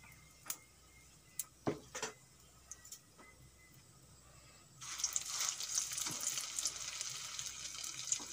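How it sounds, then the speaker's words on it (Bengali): Potato and egg pieces frying in a pan, a soft steady sizzle that swells suddenly partway through as more pieces go into the oil, following a few light taps and clinks of utensils. "বাদ বাকি যেগুলো আছে এখন আমি সেগুলো একই রকম ভাবে ভেজে নেব।"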